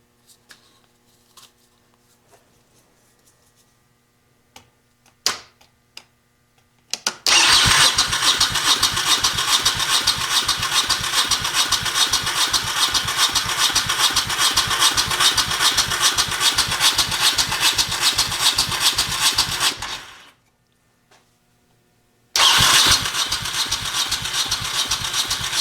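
A Honda Shadow VT1100 motorcycle engine cranks and catches, running loud and steady with a rapid, even pulse for about thirteen seconds, then cuts out briefly before firing again. Faint clicks come first, and no one speaks.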